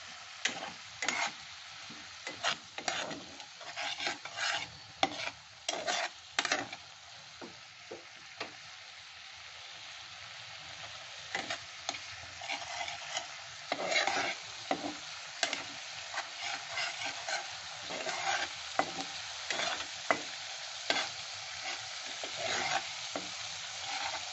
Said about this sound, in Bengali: জল দিয়ে এটা এমনভাবে কষতে হবে বেশ তেল ছাড়া হবে